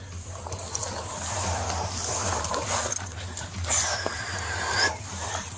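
A dog whimpers and pants close by, a continuous soft, breathy sound with occasional higher whines over a steady low rumble of background noise.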